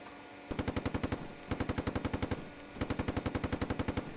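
Bursts of automatic gunfire in the Steel Beasts Pro PE tank simulator, with three rapid volleys of about ten evenly spaced shots each and short gaps between them, loud and close with no talking.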